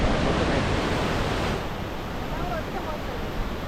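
A powerful waterfall, five falls merged into one main fall in full flow at Maramalai, Kanyakumari district, roars as a loud, steady wash of rushing water close by.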